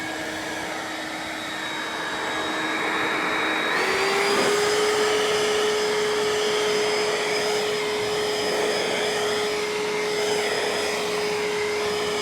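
A Ryobi leaf blower runs steadily, then its whine steps up in pitch and loudness as turbo kicks in, a continuous close roar blowing grass and dust with no talk.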